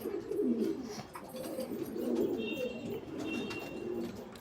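Pigeons cooing indoors in a home loft, including an old black Andhra pigeon about seven years old; continuous soft, throaty rolling coos overlap at moderate distance, with faint chirps and room noise.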